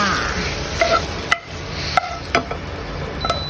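Minced pork is stir-fried in a pan for a Thai pan-fried egg dish, making a steady close sizzle broken by a few sharp clicks and scrapes from the spatula. No talking.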